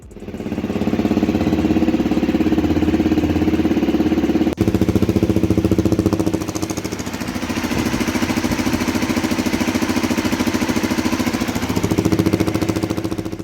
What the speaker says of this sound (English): if you're wondering how a healthy CRF250L engine sounds like, well, here it is.